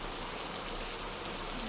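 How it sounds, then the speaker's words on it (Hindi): Heavy rain pours down steadily at night, a dense, even hiss of downpour with no breaks, close and fairly loud throughout. "एकदम बारिश बहुत ज़्यादा तेज़ आने लगी थी"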